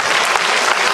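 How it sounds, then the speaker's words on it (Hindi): Audience at a school annual function clapping loudly for a children's performance, a dense, steady burst of applause with no voices over it. "आइए उन बच्चों के लिए जोरदार ताली आप सभी के लिए"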